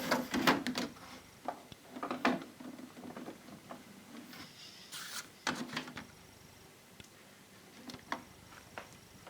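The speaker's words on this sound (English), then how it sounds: "So now I'm going to test the printer now." An HP 5510 printer running a test gives a series of quiet mechanical clicks, ticks and short whirring bursts, irregularly spaced and close by, with no talking.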